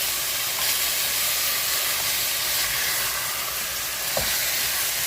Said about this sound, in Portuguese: Já vou colocar a carne aqui.